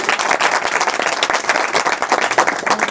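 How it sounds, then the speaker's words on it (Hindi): An audience at a birthday gathering claps enthusiastically, many hands producing a lively, uneven patter of applause at moderate distance. "जोरदार ताली बजाकर खुशी जाहिर करो"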